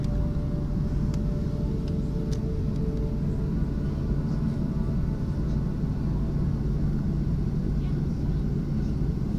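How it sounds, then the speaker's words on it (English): A KLM airliner sits on the runway ready for takeoff, its engines giving a steady low rumble and hum from inside the cabin that holds even and constant throughout, with no clear rise of a takeoff roll. "We're now ready for takeoff."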